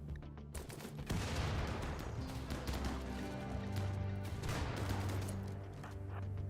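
Colonists in RimWorld fire a dense, continuous volley of overlapping gunshots and rapid automatic bursts, loud and sustained throughout with no pauses.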